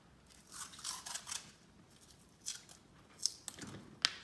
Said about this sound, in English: we're just going to use some masking tape and just tape the